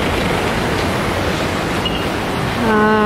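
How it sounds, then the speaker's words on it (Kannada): Steady broadband roar of Lakkam Falls waterfall in Munnar fills the scene, constant and fairly loud, with a faint tonal sound rising briefly near the end. "ಇವಾಗ ನಾವು ಲಕ್ಕಂ ಫಾಲ್ಸ್ ಹತ್ರ ಬಂದಿದ್ದೀವಿ"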